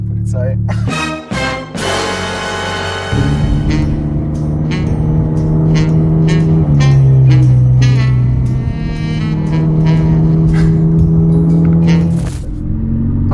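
The rattling ABT Audi A1 race car, its loud engine droning and rising through gear changes with a clattering, raspy edge, close and continuous, with brief gaps and revs early on.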